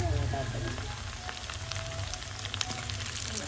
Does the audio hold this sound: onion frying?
yes